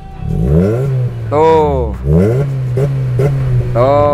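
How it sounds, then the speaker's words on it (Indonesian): A Honda HR-V with a full aftermarket exhaust, set to its quiet silent mode, revs up and down several times in loud, close bursts. A voice briefly cuts in between the revs. "yang A suaranya itu yang silent. Kalau gue geber, dia masih keluar tapi lebih kalem."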